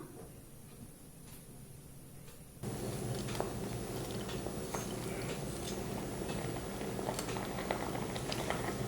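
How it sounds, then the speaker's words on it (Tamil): A pot of carrot kheer bubbles steadily at a gentle boil, the simmering swelling louder after a few seconds and continuing with soft pops and patter. "இப்போ வந்து இது லைட்டாக கொதிக்க ஆரம்பிச்சிடுச்சு."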